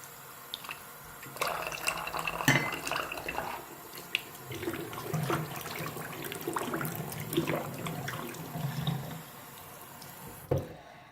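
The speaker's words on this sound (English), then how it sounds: "I'm gonna wash off the lid a little bit. Also wash off the plate." Tap water runs and splashes in a sink while the lid and plate of a rock tumbler are rinsed, with a steady close stream broken by drips and handling clatter, ending with a sharp knock.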